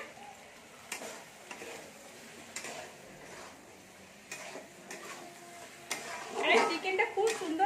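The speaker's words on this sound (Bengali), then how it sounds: "এখানে আমি উচ্ছেটা ভেজে নিচ্ছি।" Bitter gourd fries in a pan with a low, intermittent sizzle, punctuated by soft clinks and stirring knocks, growing livelier toward the end, with a voice faintly present.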